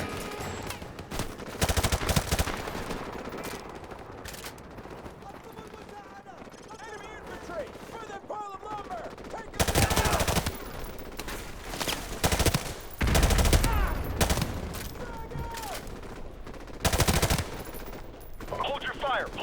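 Bursts of automatic gunfire in Call of Duty: Modern Warfare Remastered, loud rattling volleys and single shots coming in irregular clusters between quieter gaps, with shouted voices over the fighting.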